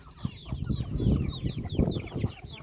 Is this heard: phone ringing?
no